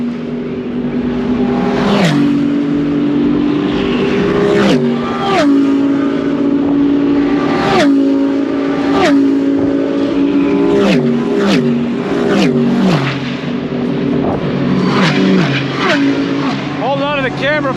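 GT race cars in a 24-hour endurance race sweep past one after another, their engines rising and falling in pitch as each car approaches and recedes, loud and close throughout.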